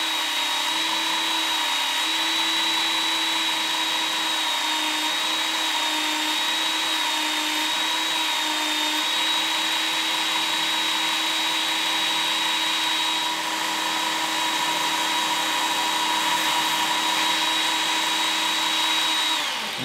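A Ken Onion Work Sharp belt sharpener grinds a chisel bevel with steady, loud, continuous high-pitched motor whine and abrasive hiss, lasting about twenty seconds with no talking.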